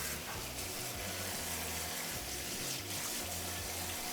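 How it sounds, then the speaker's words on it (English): Running water pours steadily over the Grainfather's stainless steel false bottom as it is rinsed under a tap, a continuous close splashing hiss with no talk. "So I'm going to give these a rinse off"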